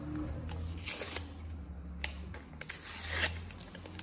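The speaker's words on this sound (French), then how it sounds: "On va couper les bords." Paper edges are cut for a love ritual, with a string of crisp, rustling snips and crinkles close up. A low hum runs underneath and no one speaks.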